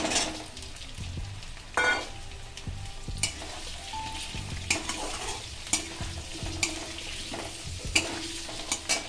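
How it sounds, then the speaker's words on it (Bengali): Pre-fried potatoes go into a sizzling pan of potato, pointed gourd and prawn curry, with a steady frying hiss, clattering stirs and spoon knocks against the pan. "তারপরে দেখুন আমি আলুগুলো আগে ভেজে রেখেছিলাম সেটা দিয়ে দিচ্ছি"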